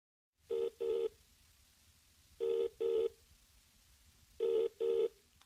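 In a listening-test recording, a telephone call rings out as a clean ringing tone in three paired double rings with steady gaps between them. The tone is moderately loud and there is no voice.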